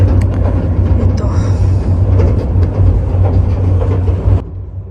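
An intercity train on the Dhaka to Chittagong line runs with a loud, close, steady rumble and rhythmic rattling of the carriage, with voices mixed in. The sound cuts off sharply near the end.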